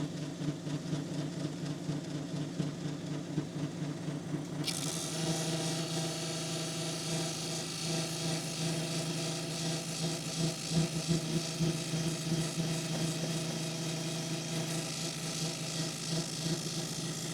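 A small 1.5-inch polishing wheel hums steadily while buffing a pet wood sample, the motor drone turning brighter and harsher partway through and then running on evenly.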